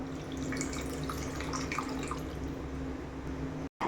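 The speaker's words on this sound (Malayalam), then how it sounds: "ഇനി നമുക്കിതിലേക്ക് പുളിവെള്ളം കൂടി ഒഴിച്ചു കൊടുക്കാം." Tamarind water is poured into a curry simmering in a home kitchen, making a steady, close, continuous pouring rush that stops abruptly at the end.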